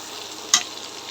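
Masoor dal khichuri ingredients stirred in hot soybean oil: a steady sizzle with one quick, sharp scrape of the spoon midway, no voices.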